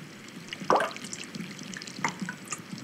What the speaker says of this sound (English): The sound of rain flowing through a zinc gutter.